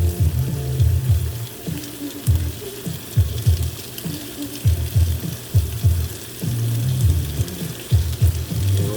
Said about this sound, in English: Add this in. This is the goo, the sesame teriyaki goo.